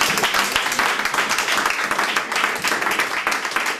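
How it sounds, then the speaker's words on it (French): A church congregation claps together in a fast, dense rhythm, loud and continuous across the whole stretch. "Applaudissez pour le Seigneur."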